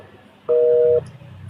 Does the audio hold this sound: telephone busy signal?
yes